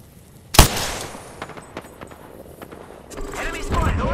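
Gunfire in the Apex Legends battle royale: one sharp, loud shot cracks out, followed by several scattered, fainter bursts, with voices murmuring underneath.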